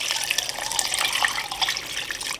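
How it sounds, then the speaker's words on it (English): Water poured in a steady splashing stream into a pot of cabbage soup, a continuous bright liquid gush lasting a couple of seconds, close and fairly loud with no talking. "So that's 12 cups of water that I added to this soup."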